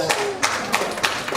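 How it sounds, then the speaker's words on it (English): Audience applause at a talk on tough love in Athens: a short burst of clapping with rhythmic claps, fairly loud and close, with voices mixed in. "Applause for whoever said agape."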